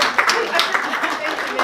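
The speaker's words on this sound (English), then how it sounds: "round of applause" A short burst of scattered audience clapping at a mayoral candidate's campaign talk in Elk Grove, heard beneath a speaking voice for under two seconds.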